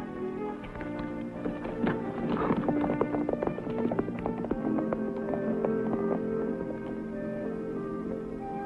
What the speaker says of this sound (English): Loose horse.